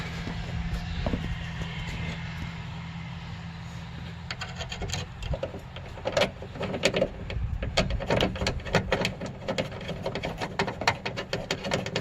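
Bolts are threaded by hand on a Toyota Camry trunk latch, giving a run of close, rapid metallic clicks and ticks with a faint hum behind them.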